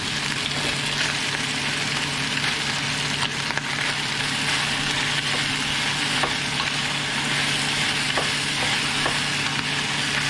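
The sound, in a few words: stir-frying pork with jalapeno pepper in a pan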